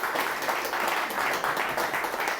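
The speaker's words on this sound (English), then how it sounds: "Can we give them a round of applause?" A conference audience applauding a panel of university academics, dense continuous clapping from a room full of people, steady and fairly loud throughout.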